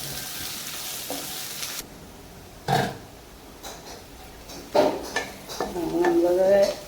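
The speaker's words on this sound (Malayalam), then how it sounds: "സബോള ഇട്ടൊന്ന് വഴണ്ട് വരണം." Sliced onions sauté in a pan for a prawn and raw banana curry, a steady sizzle broken by scraping stirs and a few clinks of a spoon against the pan.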